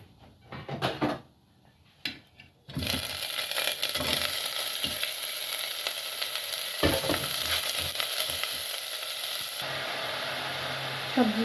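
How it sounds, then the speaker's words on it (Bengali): Vegetables and rice roast in a pan with browned garlic, a loud, steady frying hiss running for several seconds after a few scraping stirs, easing slightly near the end. "তারপর 1 থেকে 2 মিনিট এভাবে রোস্ট করব ভেজিটেবল আর চালটাকে"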